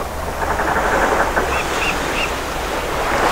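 Ocean surf washing steadily in the School of Dragons game as a channel of open sea is reached, a continuous broad rush of waves with a few faint high chimes near the middle, no voices.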